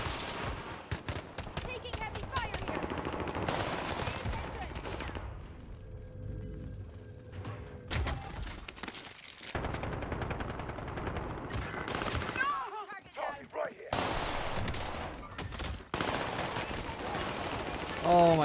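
Video game gunfire crackles in rapid bursts and sustained automatic volleys, loud and close, broken by brief quieter gaps and mixed with game sounds and voices.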